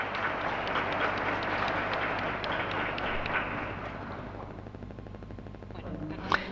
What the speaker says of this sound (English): A round of applause for the authors.